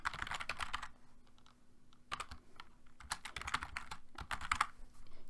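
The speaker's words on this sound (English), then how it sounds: "All you have to do is type in the email address." Someone types an email address on a computer keyboard. The keys patter in rapid, uneven bursts, close and clear, with brief pauses and no speech.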